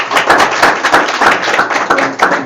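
A round of applause at a county board of education meeting: a small crowd claps steadily and briskly, close and loud, with no talking.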